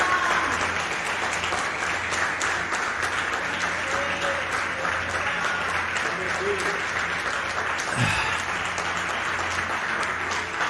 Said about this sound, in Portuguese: Você pode aplaudir Jesus, irmãos, com a sua melhor salva de palmas?